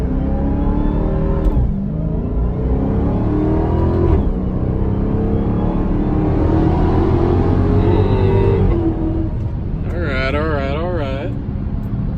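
A Dodge Charger SRT Hellcat engine pulls hard through paddle-shifted gears, its loud revving rising in steady sweeps with brief dips at each upshift, heard close from inside the car alongside someone talking.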